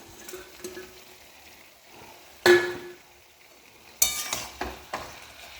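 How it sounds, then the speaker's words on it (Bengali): Fried small fish are stirred into eggplant and potato in a pan. Two sharp scraping clatters stand out over a faint sizzle, followed by a few lighter stirring knocks. "গুঁড়া মাছটা দিয়ে এই বেগুন আলুটা দিয়ে ভালো মতন মিশিয়ে নিব।"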